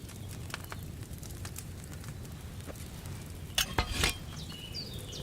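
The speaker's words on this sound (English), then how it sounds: "Hear that bubbling? It's boiling." Wine potion simmering in a cauldron over a flame in Kingdom Come Deliverance 2, a quiet steady bubbling and low fire crackle, with a couple of sharp clinks of cookware near the end and no voices.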